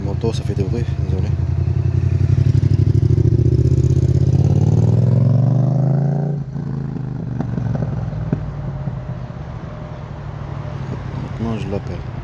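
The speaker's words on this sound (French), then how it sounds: "moto, ça fait des bruits, désolé." A motorcycle engine runs close by, a loud droning roar that climbs in pitch over several seconds, then drops back to a lower rumbling idle with some clatter.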